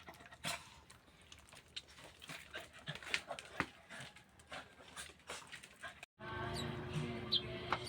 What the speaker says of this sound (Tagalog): Naglabasan na yung mga tuta.